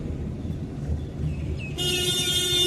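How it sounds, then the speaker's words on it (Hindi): A car horn blares in a sustained honk partway through, cutting over the steady rumble of a Maruti Alto's engine in third gear at about 40 and road noise. "हॉर्न क्योंकि यहाँ पे गाड़ियां आ सकती हैं।"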